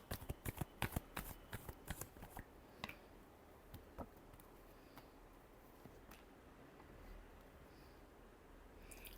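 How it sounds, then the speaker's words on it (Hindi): Tarot cards are shuffled by hand, giving a soft flurry of riffling clicks that is dense at first and then thins to occasional taps over a faint, steady background. "Last shuffle."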